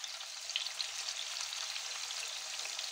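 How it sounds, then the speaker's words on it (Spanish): Chicken drumsticks browning in a pan give a steady, even sizzle of frying with small pops, close and continuous with no talking. "Jamoncitos de pollo. Y esto, nada, simplemente dorar"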